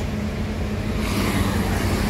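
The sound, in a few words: yellow bus passing on the road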